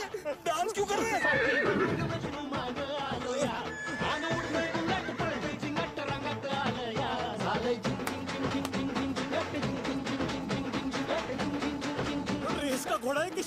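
A horse neighs and whinnies repeatedly in a film scene, loud and excited, mixed with hoof clatter, music and people talking and shouting over it.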